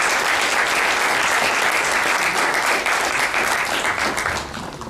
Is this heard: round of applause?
yes